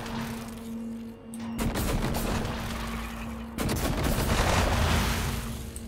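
Gunfire in the video game Prey, a dense run of loud shots and bursts that fill the clip with a sharp cut partway through and no talk over it.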